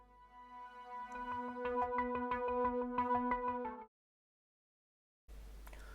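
Filtered synth plays a steady pulsing pattern of repeated notes whose tone opens and brightens as it goes, then cuts to silence before a brief burst of noisy sound at the end.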